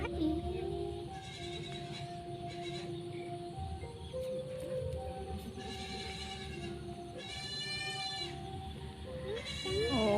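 Goats bleat repeatedly inside a goat pen, several loud wavering calls rising over a steady rumble of farmyard noise, with faint voices in the background.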